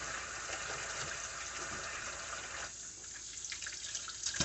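Tap water runs steadily into a kitchen sink while raw chicken livers are rinsed, a continuous close hiss that shifts in tone partway through as the stream hits something different, with small splashes toward the end.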